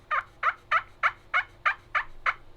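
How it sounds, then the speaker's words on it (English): A slate turkey call is worked in small circles to produce a clear yelp, eight evenly spaced, loud notes close by with no talking. "how you get the yelp is you're going to go in little circles"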